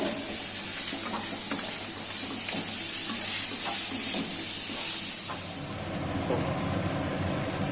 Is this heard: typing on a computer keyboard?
no